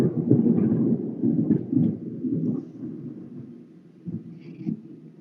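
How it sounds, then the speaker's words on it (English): Thunder from a real storm outside rolls in as a deep, rumbling low roar, swelling and fading over several seconds, loud at first and then ebbing before a few further grumbles near the end. "I just heard thunder, and that was not a sound effect."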